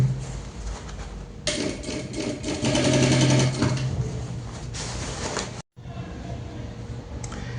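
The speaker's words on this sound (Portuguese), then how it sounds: "E a gente vai passar um pé de máquina em toda a volta." A sewing machine runs stitches around the edge of a double-sided fabric bag, whirring close and loud in a sustained burst, then briefly stopping before starting again.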